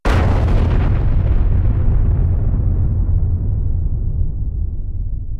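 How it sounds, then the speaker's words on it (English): A supernova explosion sound effect: one huge, loud boom that erupts at once, then rumbles on and slowly fades over several seconds, heard alone. "The star's collapse triggers an explosion so great that the resulting supernova can briefly outshine the entire host galaxy."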